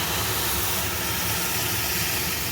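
Water poured into roasted semolina with ghee and salt in a pan, stirred quickly for suji pulao; a loud, steady hiss and bubbling roar fills the whole stretch without talk.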